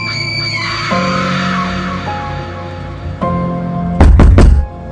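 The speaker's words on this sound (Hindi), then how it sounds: "मीरा की तेज चीख और दरवाजा पीटने की आवाजें आने लगी।" A loud scream rises over music-like tones, followed by a burst of heavy thumping near the end, like fists pounding on a door.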